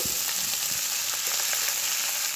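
Radish leaf greens hit a hot pan of browned garlic and chillies, giving a steady, close sizzle and crackle of frying with faint stirring, without any talk.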